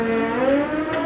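A turbo drag bike launches down a drag strip during a pro drag bike race, giving a brief, loud and steady engine roar with a strong tonal whine and no voices.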